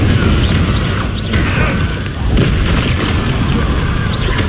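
Confringo fire spell explosions in Hogwarts Legacy combat on hard difficulty, loud booming blasts layered over constant roaring battle noise with a couple of heavier impacts.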